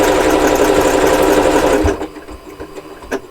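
A Janome Continental M7 sewing machine stitches lettering, a loud, steady mechanical whir for about two seconds that then stops. Quieter clicks and taps follow as the stitch locks at the end.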